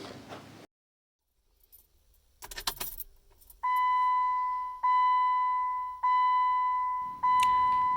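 Car keys jangle in a short metallic burst while turning a Jeep JKU ignition, then the stereo gives four steady, evenly spaced electronic beeps, close and fairly loud.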